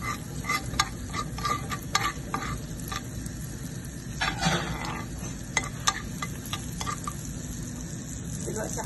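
Garlic frying in butter in a pan sizzles steadily and close, with repeated stirring scrapes and light utensil taps throughout.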